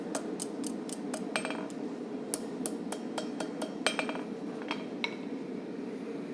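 Steel railroad spike being forged into a knife blade, struck with a hammer over an anvil's horn: a rapid series of sharp ringing metallic clinks in uneven bursts over a steady background hum.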